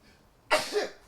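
A single sharp sneeze bursts out close and loud, a sudden broadband blast trailing off into a short breathy tail, with near silence before it; heard indoors during a relaxed gaming session amid allergy season in Texas.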